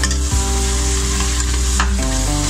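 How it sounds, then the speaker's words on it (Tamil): Four big onions, finely chopped, frying in oil for chicken gravy, a loud, dense, steady sizzle right up close, with a low hum running underneath. "வெங்காயம், பெரிய வெங்காயம் அரிஞ்சது போடுறாங்க."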